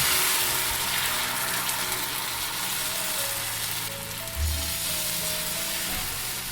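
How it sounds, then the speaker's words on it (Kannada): Wheat flour batter sizzles in an oiled pan on the stove, a loud, steady, dense crackling hiss that runs unbroken throughout with no voices. "ಅದಕ್ಕಿಂತ ಮುಂಚೆ ಇದ್ರ ಒಳಗಡೆ ಒಂದು ಸ್ವಲ್ಪ ಎಣ್ಣೆ ಹಾಕ್ಕೊಳ್ಳೋಣ. ಆಮೇಲೆ ಈ ಬ್ಯಾಟರನ್ನು ಹಾಕ್ಕೊಳ್ಳೋಣ."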